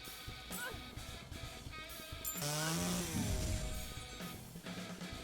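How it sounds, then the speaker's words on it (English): A chainsaw revs in a video game, its buzzing engine rising loud for a couple of seconds over game effects and background music while people talk over it. "Chainsaw."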